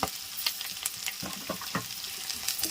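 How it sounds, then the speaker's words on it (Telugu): Turmeric and asafoetida tempering sizzles steadily in hot oil, with a few sharper crackles and spoon stirs scattered through the close, continuous frying hiss. "పసుపు వేసి వేపేసుకొని అలాగే కొద్దిగా ఇంగు వేసుకుందాము."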